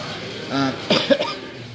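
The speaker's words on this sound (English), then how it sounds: "talking about coughing and the fact that I have a terrible chest infection" A single harsh, chesty cough from someone with a bad chest infection, preceded by a brief vocal sound, close and fairly loud over a steady low background hiss.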